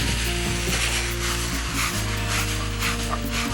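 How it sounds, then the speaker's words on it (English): Corn and black beans sizzle in a frying pan while it is tossed, making a dense, continuous close hiss with rhythmic clicks and rattles of the shaken pan under a low steady hum. "In the pan it goes. Oh wow, I can smell it already. It smells like Texas in there. All right, let's give our pan a little toss here."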